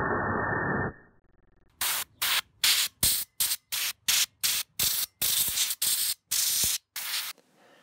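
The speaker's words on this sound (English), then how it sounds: "I'll be using a can of compressed air and an old paintbrush." Compressed air from a can blasts dust off an old original Intel heatsink, with an old paintbrush also on hand: a brief low rumble, then a loud, close run of about a dozen sharp hissing bursts with short gaps between.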